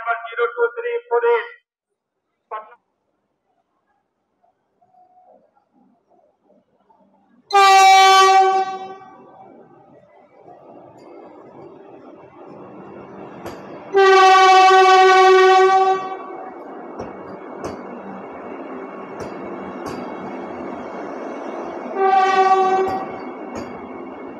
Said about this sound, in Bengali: বন্দে ভারত এই মুহূর্তে ঢুকে গেছে জেসিডি জাংশনে